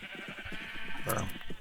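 Sheep bleat in a farm-building video game, a clear louder bleat near the middle standing out over a continuous background of game noise and low clatter.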